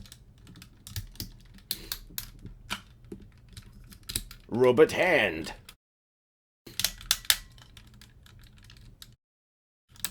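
Quick, light plastic clicks and snaps of small parts on a Transformers Millennium Falcon combiner toy forming robot arms, coming in uneven bursts close by, with a brief spoken phrase partway through.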